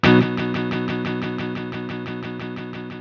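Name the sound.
Strymon TimeLine MX delay preset Even Diverge, panning repeats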